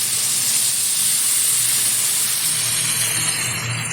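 Ground spice paste of cumin, ginger and chilli hisses loudly and steadily in a hot pan as a little water is added, a close, continuous steamy sizzle that barely fades over four seconds.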